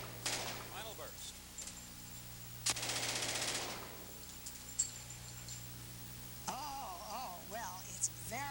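Final burst of machine gun fire from a 30-round magazine, heard as one short rapid volley. A voice speaks faintly before and after it, and some chirping, squeaky noises run through the background.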